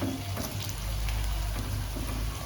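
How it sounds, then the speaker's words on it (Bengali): A cashew and raisin sweet paratha fries in a pan with a steady, soft, rain-like sizzle and a low hum underneath. "আবার 2 মিনিট অপেক্ষা করব, তাহলে দু পিঠটাই ভাজা হয়ে যাবে।"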